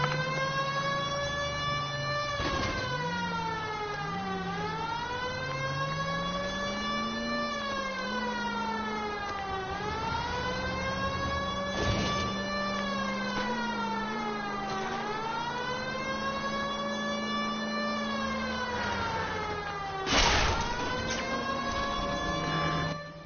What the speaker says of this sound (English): Why don't you use the siren?